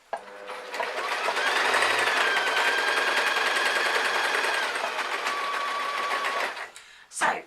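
A sewing machine runs steadily, stitching a stretched elastic shoulder strap on a baggy top, a loud close rapid whir lasting several seconds before stopping with a short clunk.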